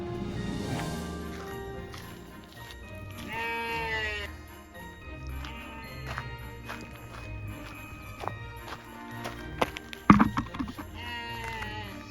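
Sheep bleat repeatedly, some close and loud, others farther off, over a background of shuffling livestock and occasional knocks.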